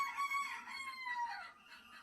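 Backyard chickens, including laying hens, clucking and calling in a steady, busy chorus close by, with high bird notes overlapping throughout.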